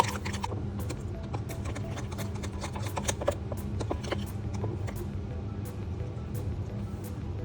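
A fork whisks egg and flour in a mug for a chocolate mug cake, giving a run of quick, uneven light clicks and taps against the cup over a low steady background hum.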